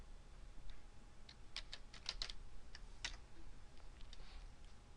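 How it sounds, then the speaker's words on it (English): Scattered computer keyboard keystrokes, a few quick clicks clustered together and then isolated taps, faint and close against a quiet room hum. "I'm going to click right here and type frequency."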